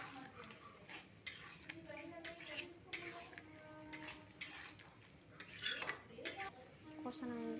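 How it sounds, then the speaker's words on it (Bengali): Fried potatoes and boiled peas being stir-fried for ghugni, with a spoon repeatedly clanking and scraping against the pot in an irregular rhythm over a faint sizzle, with occasional voices in the background. "এরপরে আমি ভালো করে কষে নেব, একটু ভালো করে কষে নেব।"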